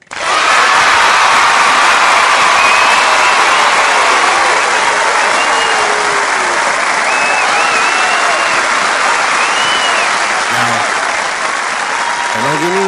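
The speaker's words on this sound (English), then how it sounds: "one more big round of applause" A large crowd applauds loudly and steadily throughout, a dense continuous wash of clapping with a few cheers and whistles rising above it.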